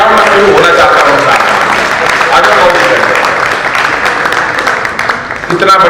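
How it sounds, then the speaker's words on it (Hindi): An audience at a Haryanvi comedy poetry gathering claps together in loud, dense, sustained applause that fills the whole stretch, close and steady before easing slightly near the end. "ताली जरा एक बार मिलके बजाओ"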